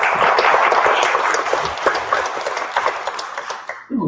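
Awards brunch crowd applauding, a dense steady wash of many hands clapping for about four seconds, fairly loud and close, thinning slightly toward the end.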